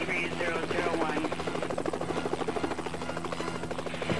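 Helicopter in Helicopter Simulator 2014 video game, a steady close rotor thrum with rapid pulsing chop and a whining engine drone, continuous and fairly loud throughout.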